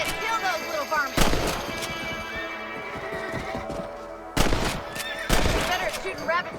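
Rifle shots aimed at rabbits in Red Dead Redemption, a few sharp loud cracks spaced seconds apart over outdoor game ambience, with characters talking between the shots.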